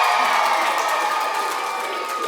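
Junior school children at Urmston Junior cheer for their teachers, a dense, loud, unbroken crowd roar of young voices that holds steady throughout.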